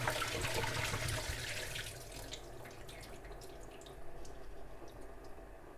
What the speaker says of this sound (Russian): вот так вот будет сливаться вся вода